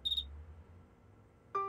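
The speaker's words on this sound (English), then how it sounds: "I like the sound of crickets, only not in the house." A cricket chirps in an animated children's cartoon with one brief, high, shrill chirp, then a quiet pause before a separate, lower tonal note sounds near the end.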